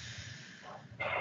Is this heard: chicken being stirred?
no